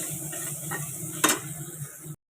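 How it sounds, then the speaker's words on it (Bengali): Vegetables sizzle steadily in a hot pan while a spatula stirs them, with one sharp scrape of metal against the pan partway through and no voices. "একটু ভাজা ভাজা একটু লাল লাল হয়ে গেলে ব্যাস নামিয়ে দেবো"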